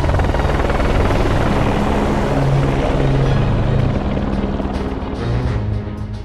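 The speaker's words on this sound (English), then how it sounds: "As he boarded the helicopter" A helicopter from the Ace Combat 5 video game drones steadily with a dense, loud rotor and engine roar that fades slightly toward the end, with no voices.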